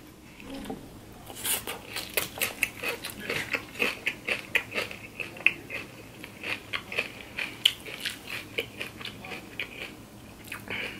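Close, crisp crunching and wet chewing of pickles during a mukbang eating show, coming in rapid repeated bites over several seconds with no talking.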